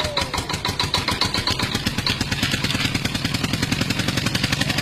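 A tractor engine chugs in a fast, even rhythm, a loud and close steady pulse with no talk over it.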